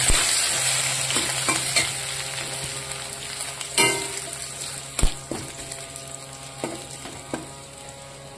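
Tempering spices for dal frying in hot oil while being stirred, a steady crackling sizzle punctuated by several sharp metallic knocks and scrapes of the spoon against the pan, close and without talk.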